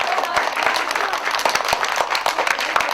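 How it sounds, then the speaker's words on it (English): A group of children claps together for performers, a lively run of many overlapping handclaps with sharper individual claps poking through, fairly close and constant throughout. "Boys and girls, let's clap again for them."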